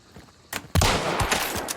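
Vetterli Carabiner rifle fire in the video game Hunt: Showdown, a couple of sharp loud gunshot cracks with rumbling reverberant tails, close and without talk.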